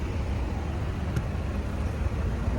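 Steady traffic noise from cars on a road during a long drive toward Erzurum, a constant broadband rumble of engines and tyres with no distinct passing vehicle and no talk.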